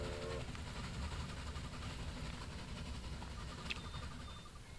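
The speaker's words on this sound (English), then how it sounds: "The first train from London." A train running in the railway strategy video game Railway Empire gives a steady, continuous rumble with a short whistle-like tone near the end.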